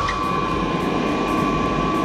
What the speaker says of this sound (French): Allez, on allume le tour.